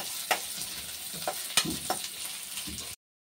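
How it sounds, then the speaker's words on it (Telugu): Onion and green chilli frying in about two tablespoons of oil in a pan for an egg curry, a soft steady sizzle broken by a few scraping stirs of a spatula, close and fairly quiet, cutting off abruptly near the end. "2 tablespoons ఆయిల్ వేసుకొని ఆనియన్ అండ్ పచ్చిమిర్చి వేసి కొద్దిగా ఫ్రై చేసుకోవాలి."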